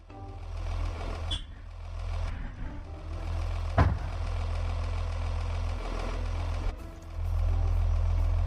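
A used car being parked in a car-dealer simulator game: a steady low engine idle runs throughout while reversing beeps sound at a regular rhythm, with brief bumps and clicks.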